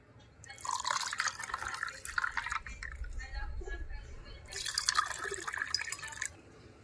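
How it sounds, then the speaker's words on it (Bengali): Water is poured into glasses for a roasted raw mango drink: two close, bubbling gurgling pours separated by a short pause, with a faint low rumble underneath. "এবার গ্লাসের মধ্যে জল দিয়ে দেব"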